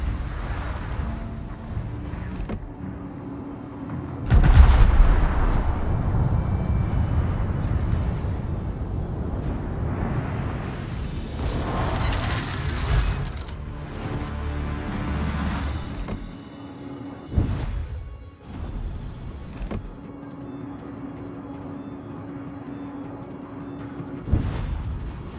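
Heavy naval cannon fire from the warship Satsuma in a video game, deep booming blasts with long rumbling tails, several heavy reports spread across the span with quieter gaps.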